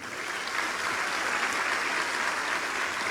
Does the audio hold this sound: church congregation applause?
yes